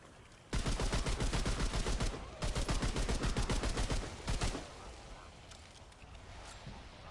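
A galvanized gun in Remnant 2 fires loud, close, rapid automatic bursts, two long rattling strings of shots split by a short pause, then quieter ambient game noise follows.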